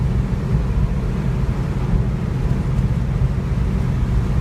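A 1964 Mercury Comet travels along a bumpy road, giving a steady, loud low rumble of engine and road noise with constant body drone throughout and no talking.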